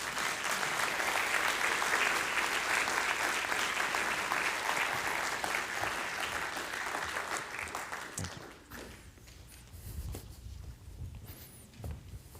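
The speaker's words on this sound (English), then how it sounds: "Let's give Bob a round of applause." Audience gives a round of applause at a church gathering, dense steady clapping for about eight seconds that then thins out and fades, followed by quieter room noise and shuffling.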